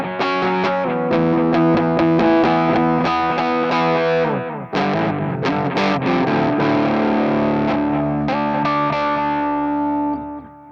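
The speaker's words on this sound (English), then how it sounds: "I was about to operate and say, listen to the saturation." A McDSP saturation plug-in colours a music track with a gritty, distorted tone that plays continuously and loudly, dipping briefly near the middle before carrying on.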